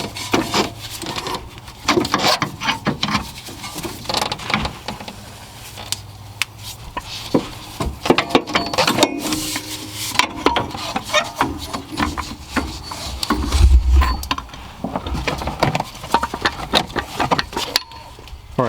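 A rear shock absorber is worked loose and pulled out from under a 2011-2019 Ford Explorer, giving close, continuous scraping, rubbing and knocking of metal and rubber parts with irregular clunks, no talking.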